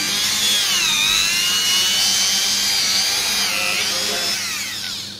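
A power drill whirs steadily as it bores into a piece of leather, a loud continuous whine with shifting pitch that runs for several seconds and eases slightly at the end.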